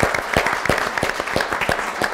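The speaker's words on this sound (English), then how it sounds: "Let's give them a round of applause." Symposium audience applauding after a live exercise demonstration, a steady spread of hand claps filling the room, loud and continuous for a couple of seconds.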